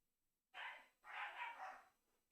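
Dogs bark at a distance, a single short bark followed by a longer run of two or three rough barks, muffled and faint against a quiet room.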